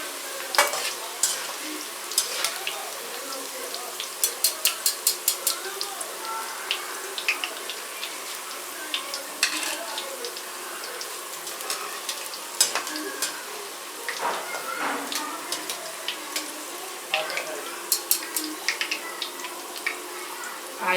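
Karela slices frying in a mix of oil and ghee crackle and sizzle steadily, with repeated spoon scrapes and clinks against the pan.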